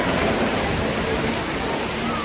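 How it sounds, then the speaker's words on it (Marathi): Heavy rain pours down steadily in a Konkan village, a dense, loud hiss of water hitting surfaces close by, with no pauses. "पाऊस आता इलेलो आहे आणि जोरात इलेलो आहे"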